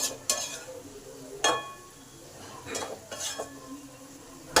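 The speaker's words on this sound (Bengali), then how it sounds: "এবার আলুগুলোকেও ভালো করে বাঁধাকপিতে মিশে দিলাম।" Potatoes stirred into cabbage in a pan, a spatula clattering and scraping against the metal several times over a low sizzle, close by with no talking.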